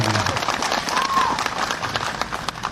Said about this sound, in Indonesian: beri tepuk tangan dong buat para aktivis di sini